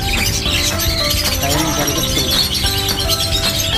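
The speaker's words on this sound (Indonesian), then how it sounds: "Kalau ini parkit Australia." Australian parakeets at a busy bird kiosk keep up a dense, steady mix of chirps and squawks with other caged birds, while people talk nearby throughout.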